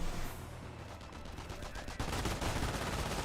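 An MG42 machine gun fires in the World War II strategy game Company of Heroes, a continuous rattling burst that swells louder partway through, mixed with other battle noise and a voice talking over it.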